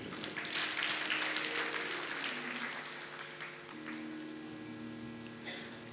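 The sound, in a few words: audience clapping for a donor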